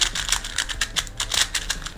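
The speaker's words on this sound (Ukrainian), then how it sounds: "Спочатку треба запутати кубика" A 2x2 Rubik's cube being scrambled by hand, giving rapid, uneven bursts of light plastic clicks and snaps that run steadily and close up, with no talking.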